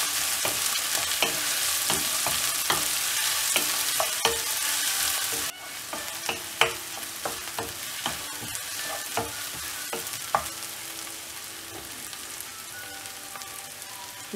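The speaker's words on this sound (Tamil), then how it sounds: "இப்போது கட் பண்ணி வச்சுருக்கிற வெங்காயத்தை ஆட் பண்ணிடலாம். இதை நல்லா ஃப்ரை பண்ணிடலாம்." Chopped onions fry in hot oil with a dense, continuous sizzle and frequent stirring clicks and scrapes, loud and close, easing somewhat in intensity partway through.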